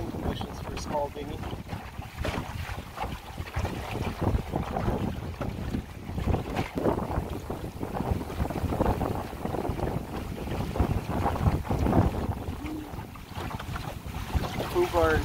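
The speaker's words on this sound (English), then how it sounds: "It's gusty, but the seas are flat because the wind is coming over the land over a port deck." A Shellback dinghy sails in gusty wind over flat water, with steady wind rush buffeting the microphone, hull and water noise close by, and a voice talking over it throughout.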